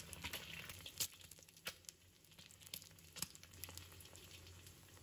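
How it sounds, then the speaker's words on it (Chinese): A single egg fries in a pan before being flipped to cook the other side, giving a faint, steady sizzle broken by soft crackles and pops, with no voices. "翻过来煎另一面"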